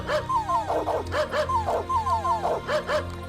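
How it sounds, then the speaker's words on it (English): A dog barks in the video game Star Ocean with an oddly melodic, pitched yip. The barks come in quick repeated bursts at a steady rhythm, clear and up close over a low, constant background hum. "Very musical dog, apparently."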